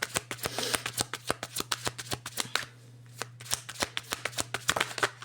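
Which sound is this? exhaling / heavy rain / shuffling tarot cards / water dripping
shuffling tarot cards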